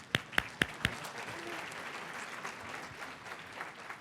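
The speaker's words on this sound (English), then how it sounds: "Get round of applause." Applause from a workshop audience seated at tables, opening with a few sharp individual claps before settling into a steady, moderate patter of many hands that fades slightly toward the end.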